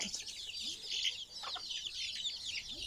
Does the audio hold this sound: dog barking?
no